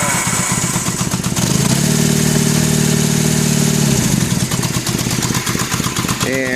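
A cold 1974 Kawasaki KZ400 engine idles steadily in neutral, a loud, close, continuous throb with a deeper, steadier tone swelling through the middle stretch before settling back.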